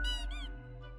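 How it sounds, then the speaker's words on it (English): A toy gerbil squeaks in a video game, two quick high chirps with a wavering pitch, clear and close over a low hum, before trailing off. "Squeak! The toy gives out a sad noise as you make your way out the door."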